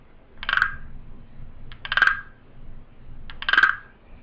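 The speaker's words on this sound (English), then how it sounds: "you run the stick up the ridges really quickly, and it makes a croaking sound, kind of like a frog" Wooden frog-shaped guiro rasped quickly along its ridges with a stick, producing three distinct croaking rasps spaced about a second and a half apart, close and clear with no talking.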